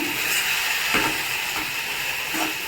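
Chilli powder being stirred into tomato curry in a pan, a steady close sizzle and hiss with a few scraping spoon strokes, no talking.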